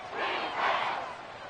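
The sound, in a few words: Arrowhead stadium football crowd roaring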